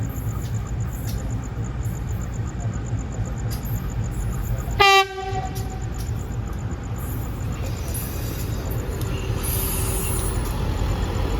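The Mutiara Selatan passenger train rolls past on an Indonesian railway line with a steady, loud rumble, and a short blast of its horn sounds midway.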